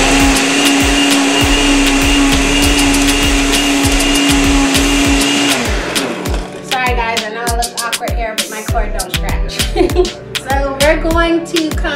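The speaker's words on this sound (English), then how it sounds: "pureed in the blender." A blender purees a chicken marinade with a loud, steady whirring roar for several seconds, then shuts off as a person starts talking.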